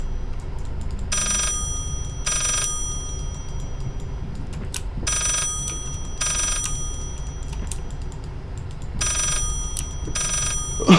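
A telephone rings in the video game Layer of Fear in paired electronic trills, three double bursts repeating at steady intervals over a low, murky ambient drone, loud and close.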